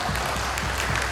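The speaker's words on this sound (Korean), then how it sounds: "박수" Audience applause at a 20th-anniversary guest screening talk for the Korean film One Fine Spring Day at a film festival in Gangneung, a steady dense wash of clapping with no voices.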